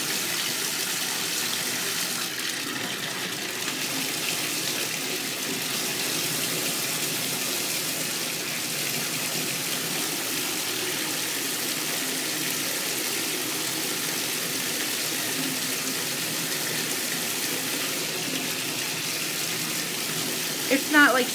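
Continuous rushing water filling a tub, a steady even gush lasting throughout with no pauses.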